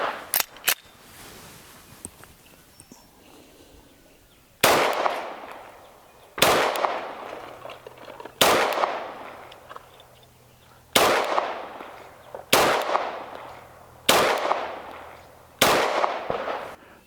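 A SAR 9 striker-fired 9mm pistol fired outdoors, with several sharp, loud single shots at irregular intervals of one to two seconds, each followed by a short decaying echo, after a few quieter clicks at the start.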